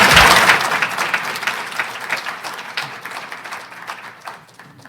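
An audience claps and applauds to welcome Ontario NDP leader Marit Stiles onto the stage at a leadership-series event. The applause is loud and dense at first, then thins and fades gradually over several seconds.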